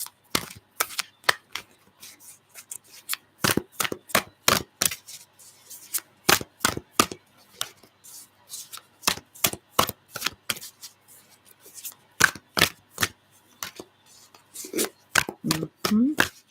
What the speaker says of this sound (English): I shuffled 2 decks.